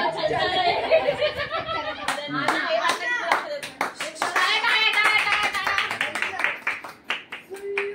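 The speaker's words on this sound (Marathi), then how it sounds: "झालं टाळ्या टाळ्या टाळ्या" A small group claps along at a family gathering, steady bursts of applause rising and falling under lively voices and laughter throughout.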